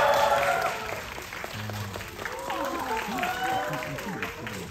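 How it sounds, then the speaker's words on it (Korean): A cinema audience at CGV Yongsan applauds as director Park Chan-wook and the cast of Decision to Leave come on stage. Steady, fairly soft clapping washes under a voice speaking over it. "큰 박수 부탁드립니다"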